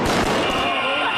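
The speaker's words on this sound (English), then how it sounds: "Protesters shooting fireworks." Protesters fire fireworks during a street clash with police in Tbilisi: a few sharp bangs burst out near the start, then a rumbling, crowded din continues beneath a voice talking.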